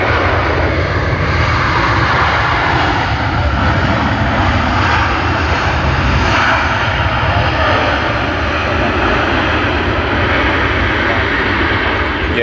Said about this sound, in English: Qatar Airways Boeing 777-300ER from Doha